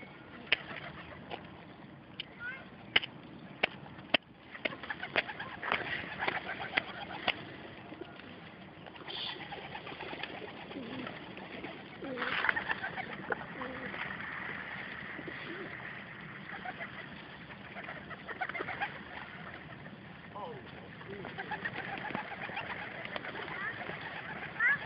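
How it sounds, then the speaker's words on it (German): City pigeons in a street setting coo and flutter, their soft calls scattered through steady urban background noise, with some voices talking at times. "Fast wie bei Hitchcock, die Vögel"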